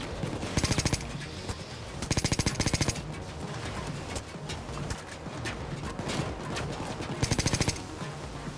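Rapid automatic gunfire bursts out in the video game Payday 2 as shots hit a van, with three loud staccato volleys separated by background game noise.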